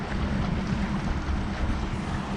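A boat motor idling on Lake Martin, Alabama, a steady low rumble with a constant engine drone and some wind noise across the microphone, continuous and fairly close, with no voices.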